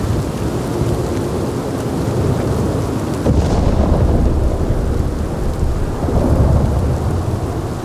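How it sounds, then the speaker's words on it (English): Steady heavy rain with a deep, rolling thunder rumble swelling partway through, loud and continuous, the in-game storm ambience of the video game Red Dead Redemption 2. "the sounds of thunder in the clouds alongside rain"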